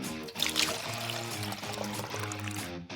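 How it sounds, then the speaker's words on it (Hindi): Water poured into a sugar and food colouring mixture in a kitchen, a steady gurgling pour partly buried under playful background music. "पानी डालें"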